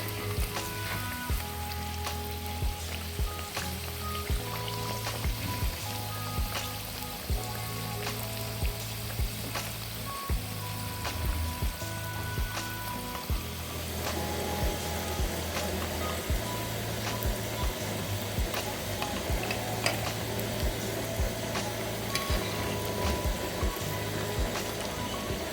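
Chicken samosas sizzle steadily in hot oil as they fry to a light brown, a continuous crackling hiss with a faint low hum beneath and no talking.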